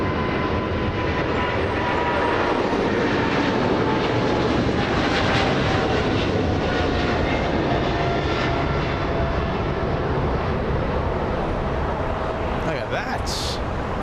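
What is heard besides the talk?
China Southern Cargo jet taking off from runway 25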